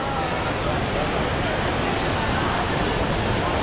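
The large indoor waterfall at Changi Airport in Singapore pours as a dense, constant roar of rushing water, loud and unbroken throughout.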